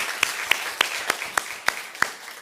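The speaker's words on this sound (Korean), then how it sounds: "우리 큰 박수로 하나님께 영광을 드리겠습니다" A church congregation clapping after a choir's hymn at a Sunday youth service, a small group's rhythmic claps in quick regular beats, close and brief.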